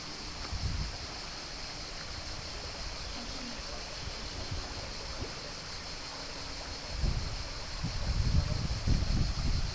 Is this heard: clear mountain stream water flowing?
yes